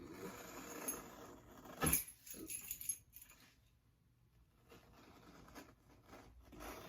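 Keys jingle and scrape while a key cuts into a MacBook Pro box, with a sharp rattle near the start and then faint scratching and tapping, close and quiet; no talk.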